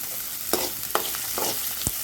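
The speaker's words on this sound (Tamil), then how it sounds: "கடுகு வந்து பொருந்தோடனே நம்ம என்ன பண்ணியாச்சு அப்படின்னா வெட்டி வச்சுருக்கிற வெங்காயத்தை சேர்த்தாச்சு" Chopped onions sauté in hot oil with popped mustard seeds, giving a steady close sizzle broken by several sharp spoon scrapes and taps as they are stirred.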